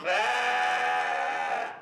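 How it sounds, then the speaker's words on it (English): A purebred breeding ewe at a 4-H sheep show gives one loud, close, sustained bleat that lasts nearly two seconds, with no talking over it. "Our second class in the ring is purebred breeding ewes."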